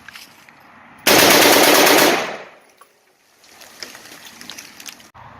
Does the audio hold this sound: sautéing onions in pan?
no